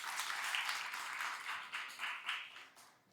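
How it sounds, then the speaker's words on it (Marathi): An audience applauds to welcome a poet at a poetry book launch, with continuous clapping that fades out in uneven bursts toward the end. "आपण सगळ्यांनी टाळ्या वाजवून स्वागत करावं."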